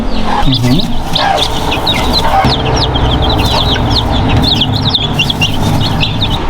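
Week-old Buff Orpington and Rhode Island Red chicks in a brooding house, a continuous chorus of high, rapid peeping close by, with a few lower sounds mixed in.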